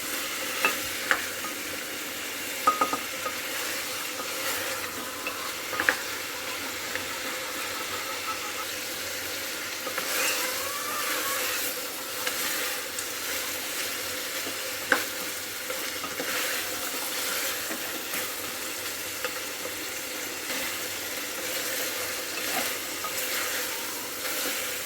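Meat sautéed in oil for a potato and meat curry, a continuous soft sizzle with occasional clinks and scrapes of stirring, steady and fairly close, with no one speaking.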